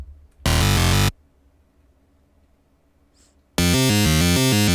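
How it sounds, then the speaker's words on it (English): A gritty, distorted synth bass from a dubstep/glitch hop production plays two dense, loud bursts separated by a gap of near silence, harsh and buzzy with rich harmonics, alone without voices. "And this really gritty bass."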